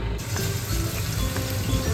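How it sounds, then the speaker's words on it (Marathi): Loud, dense crackling sizzle of curry leaves, ginger and garlic hitting hot oil for tempering, close up and continuous for the whole stretch, with no talking. "तर अशी फोडणीचा आवाज आलेला आहे"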